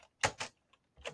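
A few quick keystrokes on a computer keyboard while setting up a test package, heard as three or four close, sharp clicks in about a second.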